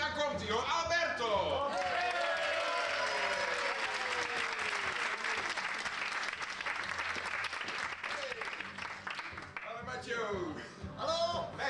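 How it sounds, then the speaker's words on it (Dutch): Audience applause at a Dutch family show or festival evening, a loud sustained wash of clapping over several seconds, with excited voices and squeals mixed in at the start and end. "we gaan hem nog één keer een applaus geven"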